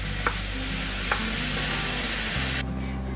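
Butternut squash lasagna filling with Italian seasoning cooking in a pan, a steady low sizzle with two faint ticks of a utensil, then a brief change in tone near the end.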